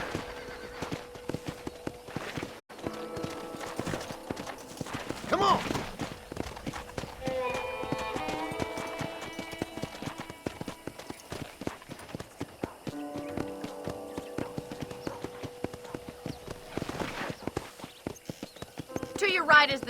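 Horse hooves clip-clop steadily along in the Red Dead Redemption video game, joined by a whinny, with a game soundtrack and voices running underneath throughout.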